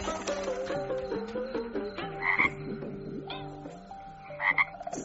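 Frogs croaking in an animated Hindi-dubbed epic film scene, a busy layered chorus of croaks with tonal calls and brighter bursts, loud and close, with no talking.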